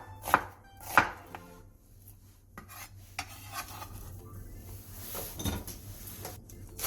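Three onions are sliced into thin strips about 0.5 cm thick for a Korean stir-fried side dish, giving a few sharp, close knife chops on a cutting board, spaced apart with quiet gaps and no talking.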